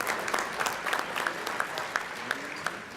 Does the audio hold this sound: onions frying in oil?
no